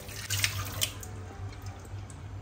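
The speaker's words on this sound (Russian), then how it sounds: "И остатки чернила мы сейчас промоем под проточной водой." Water runs steadily from a tap, with a soft splashing hiss as an octopus is rinsed of leftover ink beneath it.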